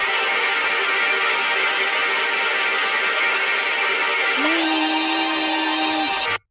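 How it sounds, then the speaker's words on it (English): Resampled synth sample run through a granulizer in a song breakdown: a dense, bright, continuous shimmering texture, with a low sustained tone entering near the end before it cuts off abruptly. No voices. "another synth going on here, which is also a resampled sample that just is thrown into the granulizer"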